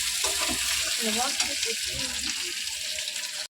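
Boiled potatoes frying lightly in a hot pan, a steady close hiss and sizzle that carries through the whole stretch, with a voice talking over it before it cuts off abruptly.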